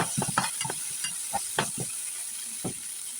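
Schezwan fried rice mixed with Schezwan chutney and dark soy sauce is stir-fried in a pan. Short, close scraping strokes come in an irregular rhythm over a steady hiss, with no voices.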